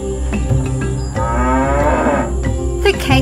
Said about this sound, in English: The Cape buffalo is the only species of wild cattle found in Africa.